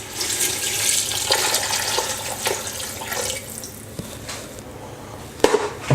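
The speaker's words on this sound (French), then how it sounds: "on va rajouter 1 litre d'eau" Tap water runs steadily into a cooking pot as one litre is added for a roasted chicken thigh, rice and legume dish, a continuous splashing flow with a few brief clunks near the end.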